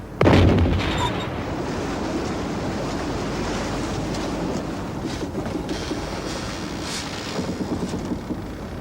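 A ship's cannon fires at sea aboard Captain James Cook's vessel, a single heavy boom at the start that gives way to a long roar of wind and surf, with no voices.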